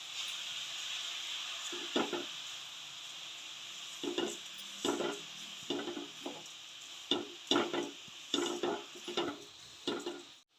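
A spoon stirring grated carrot, sugar and khoya in a pan over the gas gives repeated scraping strokes in an uneven rhythm over a steady low sizzle, close and moderately quiet, with no talking.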